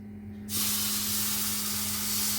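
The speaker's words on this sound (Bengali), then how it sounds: "এবারে আমি চিনির সিরাপটা দিয়ে দিই আস্তে আস্তে।" Hot sugar syrup is poured into roasted semolina for rava kesari halwa. A sudden loud hiss breaks out and holds as a steady, close sizzle after a quiet moment.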